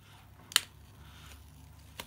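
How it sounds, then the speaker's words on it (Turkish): Scissors snip a begonia leaf in a single sharp, close cut, followed later by a fainter second click, against quiet room noise. "Makasla kesmek istiyorum"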